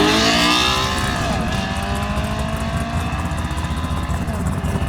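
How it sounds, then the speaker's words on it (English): An Audi car accelerating hard in a street race in Mexico, a loud close engine roar climbing in pitch through the revs, then holding a strained droning note as it pulls away. "All right, we got an Audi."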